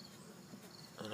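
Honeybees hum steadily at an open hive as a frame is eased away from wet, nectar-filled comb: a soft, continuous, faint drone with no talk, swelling slightly louder near the end.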